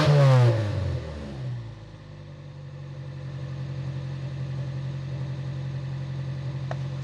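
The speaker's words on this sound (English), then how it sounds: "Had a little bit of a misfire there, but it cleared up after a couple revs." A free car's engine revs sharply as it warms up after a brief misfire, then drops into a steady, droning idle that holds evenly to the end.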